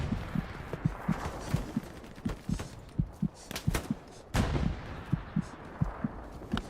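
Machine gun fire during a large 18v18 match of the World War II video game Hell Let Loose, a steady string of thudding shots, somewhat distant and moderately loud, with a few sharper, closer cracks mixed in.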